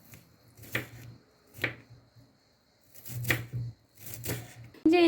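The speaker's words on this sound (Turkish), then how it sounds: "Şimdi bir adet soğanımızı ince ince bir tencereye doğrayalım arkadaşlar." A knife finely chops an onion on a cutting board in short bursts of quick, close taps separated by pauses, with faint speech in the background.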